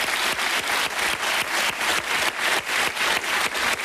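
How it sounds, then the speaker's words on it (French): French television studio audience giving a couple sustained applause, a loud, dense wall of clapping with rhythmic swells as many hands fall into a loose shared beat, continuous from start to finish. "Je vous demande de les applaudir."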